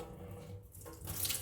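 Vinegar water poured from a kettle into a sink makes a soft, steady splashing flow, faint and close, with no voices.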